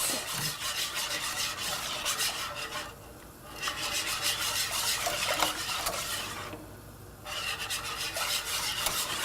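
Eggs are stirred into a warm, thickening mixture with a continuous, close scraping and rubbing of a spoon against the pot, briefly pausing twice before resuming at the same steady pace.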